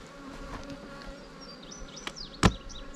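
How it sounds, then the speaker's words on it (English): Honey bees buzz around a double hive box in a bee yard, a faint background hum with individual bees zipping past close by, one loud near pass standing out. "Now we'll check this big double box with a ton of bees on it."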